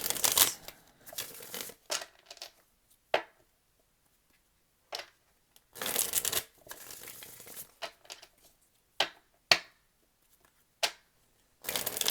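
Bursts of papery tarot card shuffling come in separate flurries with quiet pauses between them, close and crisp, with no talking.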